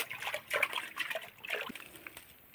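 A child splashes water while washing hands, giving several soft trickling and splattering bursts in the first half that fade to faint dribbles.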